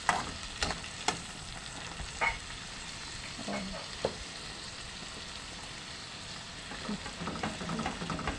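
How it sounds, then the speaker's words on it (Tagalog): Tomatoes, garlic and onion fry in a pan with a steady, close sizzle, broken by a few sharp clinks and scrapes of stirring; no one speaks. "niluluto lang po maigi ang kamatis hanggang sa siya ay maduro"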